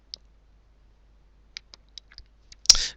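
Sparse computer mouse clicks, a single sharp click followed by a few quick clicks, and a louder final click with a brief rustle, all close and isolated in quiet.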